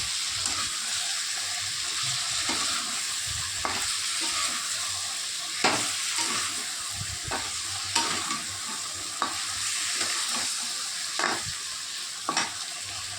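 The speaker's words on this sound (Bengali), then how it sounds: "মশলাটা এবারে সবজির সঙ্গে ভালো করে কষিয়ে নেব।" Pointed gourd, potato and prawns sautéing with spices in a pan, a steady close sizzle broken by repeated scraping stir strokes of a spatula, with no one talking.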